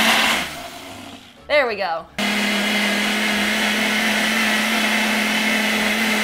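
A blender whirs loudly, blending a thick smoothie bowl; the steady motor drone takes over after a brief pause and pitch-rising start, with a short spoken comment near the beginning.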